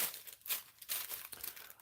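A plastic bag holding a pie crinkles and rustles in several quick, close bursts, faint and without talk.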